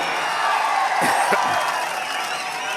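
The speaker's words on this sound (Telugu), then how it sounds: "అందరూ చప్పట్లు కొట్టి అభినందించండి వాళ్ళని" A dense crowd at a political rally in Nagari roars steadily with applause and cheering, loud and continuous throughout.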